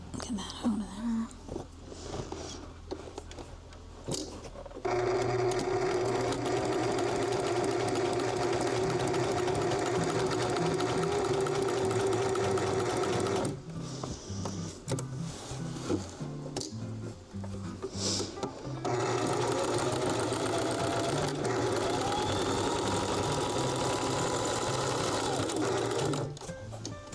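A sewing machine runs in long steady stitching bursts, stopping and restarting several times, close and fairly loud, with a person talking softly during the pauses.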